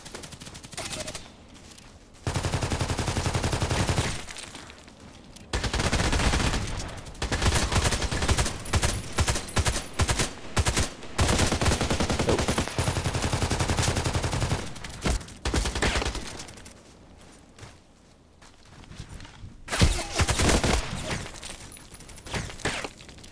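HK417 rifle fire in a shooter game crackles in long rapid bursts and single shots, loud and close, with short pauses between volleys.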